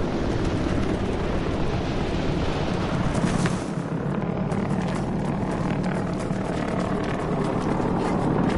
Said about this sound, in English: Hostile aircraft reported.